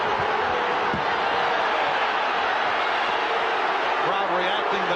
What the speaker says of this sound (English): Crowd reacting